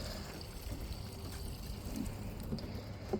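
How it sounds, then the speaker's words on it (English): 91 octane, ethanol-free gasoline pours into a small engine's tank, a soft, steady trickling and gurgle heard close up without talk. "fill it up with 91 octane, no ethanol gas"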